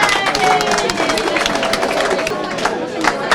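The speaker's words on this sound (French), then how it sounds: "On l'applaudit très très fort" An audience at a Women's Day event at PCCI applauds Aïssatou Faye: dense, loud, continuous clapping mixed with crowd chatter and hubbub throughout.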